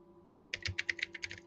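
A burst of about ten quick keystrokes clatters on a computer keyboard, close and crisp, following a moment of quiet room tone.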